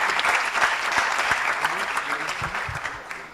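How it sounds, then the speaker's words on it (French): Applause at a research award ceremony, a crowd clapping steadily right after a trophy is handed over, fairly loud at first and tapering slightly toward the end. "on vous applaudit"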